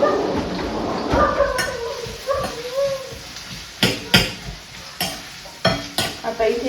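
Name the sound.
onions frying and being stirred in a pan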